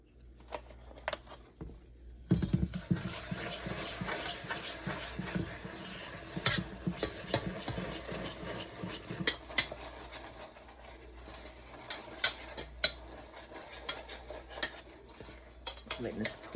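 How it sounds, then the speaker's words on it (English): A spoon stirs heavy whipping cream into a peanut chicken stew in a pot, with soft scraping and clinking against the sides and a faint sizzle underneath, steady and close. "stir in a couple tablespoons of heavy whipping cream"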